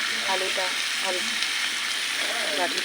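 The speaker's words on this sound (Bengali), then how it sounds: "এবার জলটা দিয়ে দেবো" Water is poured into frying spices in a pan for a katla fish curry with potatoes. A steady sizzle runs throughout, with light stirring and scraping, and no one speaks.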